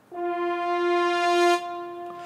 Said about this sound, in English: there is a French horn crescendo.